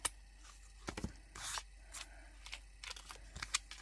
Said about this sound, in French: Je vais venir couper l'excédent.